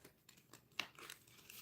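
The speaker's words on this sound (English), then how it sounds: "so I'm going to have to shuffle them." An oracle card deck being shuffled, with soft crinkly riffling and papery clicks, one crisp snap midway, quiet and close.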